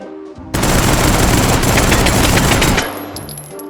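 A Mauser machine pistol in H3VR goes off on full auto in one rapid burst of roughly two seconds. The burst is loud and close, then a brief tail of metallic clatter as it stops.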